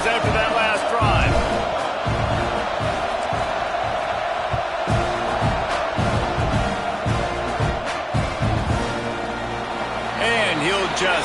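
A football stadium crowd at a Longhorns game keeps up a loud, steady roar with whoops and bursts of cheering, mixed with commentary, thuds and other game noise throughout.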